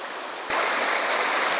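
Rushing water of a small brook tumbling over waterfalls in the North Maine Woods, a steady close roar of flow with no voices, growing fuller and louder partway through.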